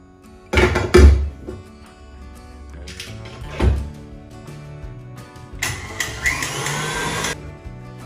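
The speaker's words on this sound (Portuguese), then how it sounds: "Então agora a gente volta a massa para a batedeira por 15 segundos." A stand mixer beating volcano cake batter for about fifteen seconds, a whirring motor hum with bumps and clunks near the start and a louder steady churning stretch toward the end.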